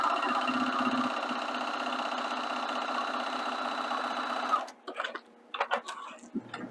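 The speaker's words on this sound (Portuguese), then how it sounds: "vou fazer uma costura aqui para vocês verem" A domestic sewing machine stitches clear plastic in a steady, even mechanical whir for several seconds, then stops, leaving a few quieter clicks and handling noises.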